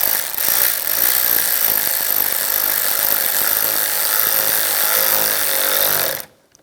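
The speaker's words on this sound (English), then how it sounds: "Tighten down the worm clamps" Worm clamps on the intake snorkel of a 1996-2002 Toyota 4Runner are driven tight with a power tool, giving a loud continuous buzzing whir up close that runs for about six seconds and then cuts off abruptly.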